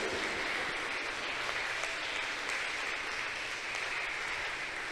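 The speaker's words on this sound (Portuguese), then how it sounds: "Aplauda mais uma vez ao Senhor." A church congregation applauds together in a worship service, a steady, continuous wash of clapping from many hands at moderate distance, no voices standing out.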